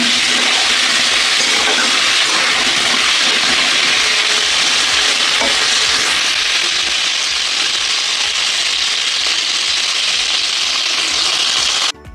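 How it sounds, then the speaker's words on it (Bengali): Steady, loud sizzling of tomatoes frying in hot oil, a continuous hiss with occasional soft stirring scrapes. "আমি টমেটো ভাজা করে নিচ্ছি"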